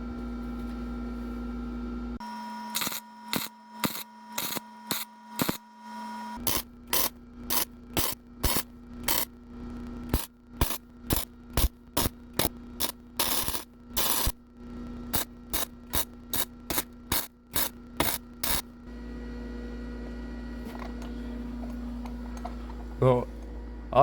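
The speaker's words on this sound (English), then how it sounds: "we're going to fill in the spot weld and weld the rest of the piece in." A cheap flux core welder fusing a steel patch into the rear inner quarter panel of an E46 BMW 330Ci, with a long series of short, sharp crackling bursts in an even rhythm over a steady electrical hum.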